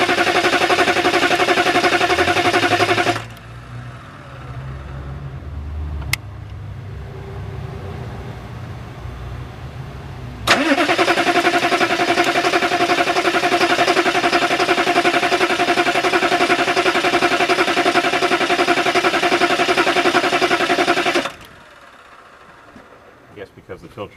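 A diesel engine with a dry, newly fitted fuel filter and a weak battery drags over in a quieter low rumbling stretch, then catches and runs at a loud, steady idle for about ten seconds before cutting off.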